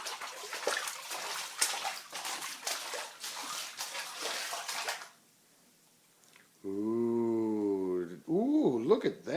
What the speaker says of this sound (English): lots of water. Lots of water. Clean, clean water.